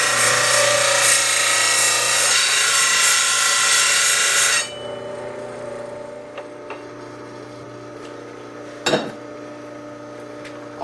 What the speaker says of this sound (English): It's great for grinding larger tools such as pry bars